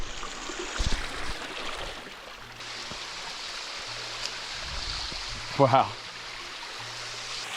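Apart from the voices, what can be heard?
waterfall in a secluded Australian oasis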